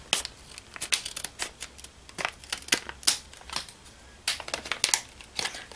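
Plastic crinkling and snipping as a Toy Story toy bag is cut open, a busy run of close, irregular rustles and sharp crackles with brief pauses, no talking.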